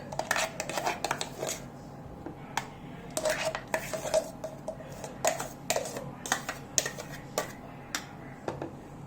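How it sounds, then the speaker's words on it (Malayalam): Thick, smooth mango ice cream mixture spooned and scraped from a bowl into an old container, a busy run of close clinks, taps and scrapes of utensil on vessel with no talking. "നമുക്കിത് ആ പഴയ കണ്ടെയ്നറിലോട്ട് തന്നെ നമുക്കിതിനെ ട്രാൻസ്ഫർ ചെയ്യാം."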